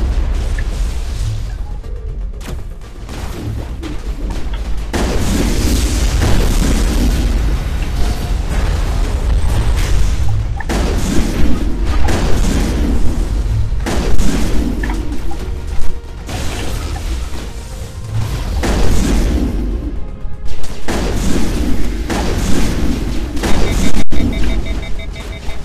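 Gunfire from a gun in the video game Mass Effect, with dense bursts of shots and booming impacts over a loud, continuous battle din, someone talking intermittently over it.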